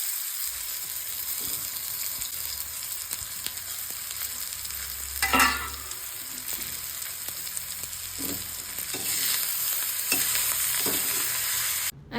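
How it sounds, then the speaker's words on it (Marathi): Kuda flowers sizzle in a pan with browned onion over a low flame, a soft steady frying hiss broken by occasional stirring scrapes and clinks. "कांदा लालसर झाल्यावरती फुलं टाकायची आणि मंद आचेवर 5 ते 7 मिनिटं शिजवायचं."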